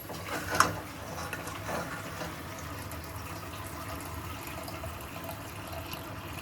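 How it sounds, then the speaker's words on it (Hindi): Water is poured from an electric kettle into a cooking pot in a home kitchen, a soft steady pouring wash with a brief clatter near the start, fairly quiet and continuous, with no talking. "ऊपर से पानी ऐड किया जा रहा है स्वाद अनुसार।"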